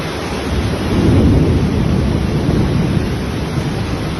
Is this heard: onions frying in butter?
no